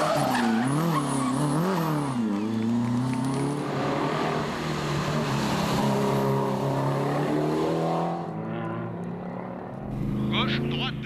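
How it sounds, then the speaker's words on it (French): A powerful V8 Corvette historic rally car at the Tour de Corse Historique rushes past at speed, its loud engine note rising and falling through gear changes as it approaches and fades, with crowd voices in the background. "Philippe Vendrome et sa Corvette sont l'attraction du Tour de Corse de par le look et la sonorité du puissant V8."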